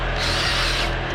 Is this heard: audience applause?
no